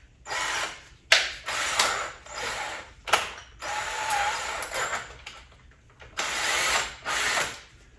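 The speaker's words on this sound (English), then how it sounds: "Take a 3/4 inch paddle bit." A 3/4 inch paddle bit drills into wood for a swarm trap in several short bursts, each whirring grind starting and stopping with brief pauses between, close and fairly loud with no talking.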